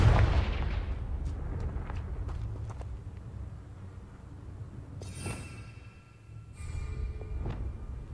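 In Hogwarts Legacy, a Confringo blasting curse goes off as a booming, rumbling explosion, followed by scattered impact crackles and a couple of sharp bright bursts over continuing game ambience.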